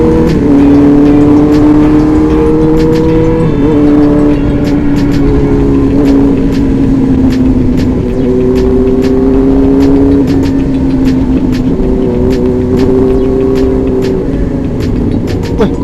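Big motorcycles rev loudly and nearby on a Jakarta street, engine pitch rising and falling in repeated throttle bursts over a constant, heavy exhaust roar with brief sharp pops throughout.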